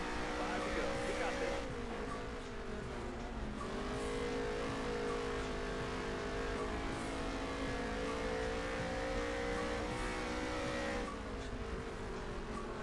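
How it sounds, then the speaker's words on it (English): A fast car's engine holds a steady high drone with slowly shifting pitch, interrupted by brief upward revving sweeps, loud and continuous throughout without speech. "So much fun with a fast car."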